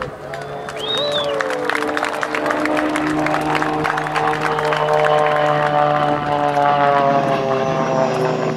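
An Extra 300 aerobatic airplane performing at a 2005 Navy air show, its propeller engine roaring loud and sustained with a rising, shifting drone as it passes, alone without voices.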